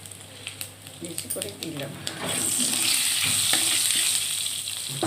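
Panch phoron spices hitting hot oil in a Bengali kitchen: a few sharp crackles and clinks, then a loud bright sizzle that swells and holds, with someone talking over the start.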